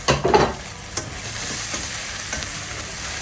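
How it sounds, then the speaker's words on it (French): Preserved lemons are stirred in a cooking pot, with a few scraping spoon strokes over a steady, close sizzle and no voices. "Et vous remuez, vous remuez, vous remuez"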